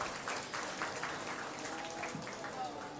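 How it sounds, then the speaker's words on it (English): Crowd applause around a livestock show ring at a county buckwheat festival, a faint, steady spatter of clapping heard from a distance, continuous throughout. "Let's give them all a big round of applause."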